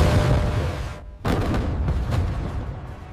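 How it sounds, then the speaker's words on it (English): An interceptor missile launches vertically from an Aegis destroyer with a loud roaring rush, a brief drop, then a sharp renewed blast and sustained thunderous roar that fades slowly. "The power of a directed vertical launch sets the interception in motion."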